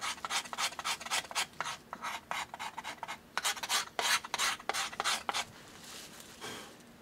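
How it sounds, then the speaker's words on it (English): Rhythmic rasping strokes as a tool scrapes varnish from a violin top during crack repair: a close, steady series of short scrubbing passes with brief pauses, tapering off near the end. "The purpose is to take the varnish away,"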